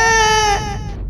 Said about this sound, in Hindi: तभी अचानक एक बार फिर से रोने की आवाज कानों में पड़ी।